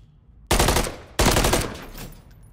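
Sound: gunfire in a video game

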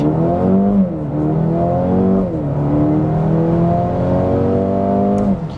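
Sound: Mercedes-AMG CLA 35 4MATIC launch-control acceleration

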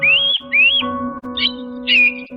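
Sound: bird calling while fighting an eagle, story sound effect

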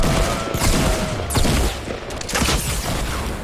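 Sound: gunfire in the video game Fortnite

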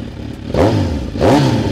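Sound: motorcycle revving with Z1000 exhaust

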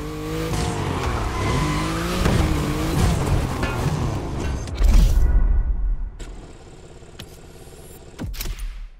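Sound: hypercars racing downtown in The Crew Motorfest video game

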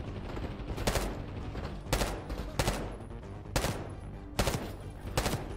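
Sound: gunfire in Call of Duty Black Ops 6 video game

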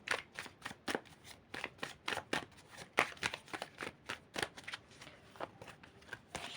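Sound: shuffling cards

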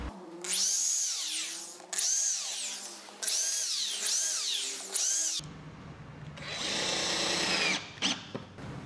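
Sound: power drill driving screws into MDF table

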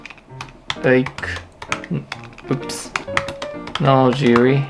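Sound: typing on a computer keyboard

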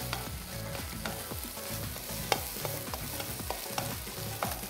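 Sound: egg being stir-fried in a pan for egg fried rice

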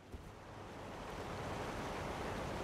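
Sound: waterfall in video game Elden Ring Shadow of the Erdtree

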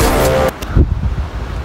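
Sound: wind blowing outdoors on a trail

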